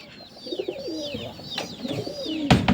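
A pigeon held in someone's hand coos in low, throaty rolling phrases across a few seconds, with brighter chirps above and a sharp rustle near the end.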